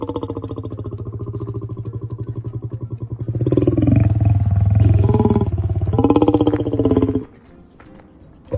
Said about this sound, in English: A male lion's roar can be heard from nearly 8 kilometers away